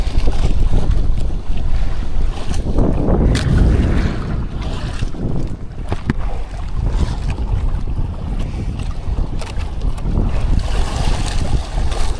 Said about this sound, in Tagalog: Ganun pa rin ang panahon, mahangin pa rin.